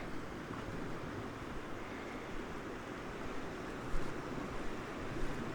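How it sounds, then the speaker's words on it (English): Steady rushing of the Yellowstone River flowing over a shallow rocky riffle, a continuous broadband wash with small surges, close and even throughout. "just that white noise from the moving water is pretty nice"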